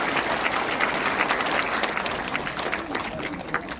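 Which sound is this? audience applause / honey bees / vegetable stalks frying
audience applause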